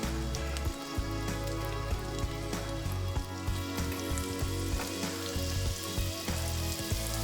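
Steaks at room temperature searing in a preheated cast iron skillet, a loud, continuous close sizzle with crackling pops and no talk.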